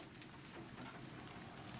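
Rain falls on tiled paving in a city plaza in the video game Alan Wake 2, a soft, even hiss of countless drops with faint spatters throughout and no voices.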